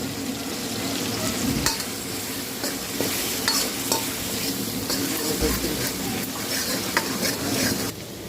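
Paneer pieces frying in butter and oil in a pan, a steady close sizzle with occasional stirring clinks and scrapes throughout.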